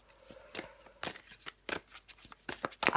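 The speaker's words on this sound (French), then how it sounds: "Je prends encore une carte." A tarot card drawn and slid from the deck, giving several short papery swishes and flicks in quick, uneven succession, close by and fairly soft, with no talking.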